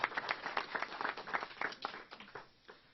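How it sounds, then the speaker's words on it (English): A room at an opioid crisis event led by the New York Attorney General breaks into applause for a speaker, with brisk overlapping claps that thin out toward the end. "Another round of applause to Luke Grandis."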